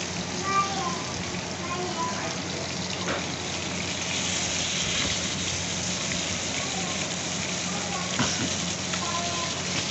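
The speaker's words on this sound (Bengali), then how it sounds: "এই যে এখানে আমি মাছগুলো সব ভাজা করে নিচ্ছি।" Fish frying in a pan, a steady loud sizzle and crackle that runs the whole time with some faint background noise.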